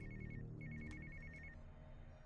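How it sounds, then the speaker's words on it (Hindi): A telephone rings with quiet, rapid electronic trills in two short bursts separated by a brief gap, under faint background ambience with no talking. "जैकब का फोन"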